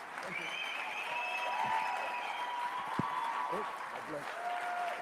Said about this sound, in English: can I get a round of applause for our fatherhood panel?